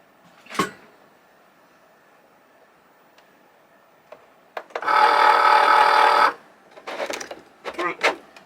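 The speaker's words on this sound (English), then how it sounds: "that is a Cricut freak out" A malfunctioning Cricut cutting machine lets out a sharp clack, then about a second of loud, harsh mechanical grinding, followed by a few rapid rattling bursts, close up in an otherwise quiet room.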